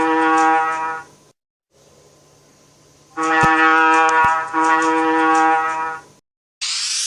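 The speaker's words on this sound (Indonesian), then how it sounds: "kapal," A ship horn sounds in long, steady, deep blasts, with one blast, a pause, then a longer sustained blast with faint clicks, loud and alone.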